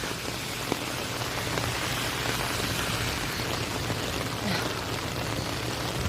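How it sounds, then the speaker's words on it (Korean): Steady rain falls on a surface, a dense, even patter that continues unbroken at a moderate level throughout, with no voices present. "비가 내려서 문제네요"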